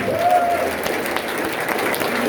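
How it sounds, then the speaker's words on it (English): Brief round of audience applause for candidates at a county commissioner candidate forum, a short burst of clapping from a modest crowd, close and fairly loud. "Let's give these guys one more round of applause"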